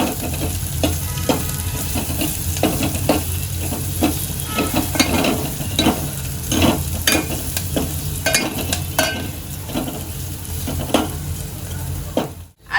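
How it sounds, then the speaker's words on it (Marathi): Curry leaves and asafoetida tempering sautéed in hot oil in a pan for Maharashtrian varan, giving a steady close sizzle and frying crackle with scattered clinks and scrapes of a stirring spoon throughout. "आणि कढीपत्ता घालून घेते या सर्वांना मी तेलामध्ये चांगलं परतून घेते"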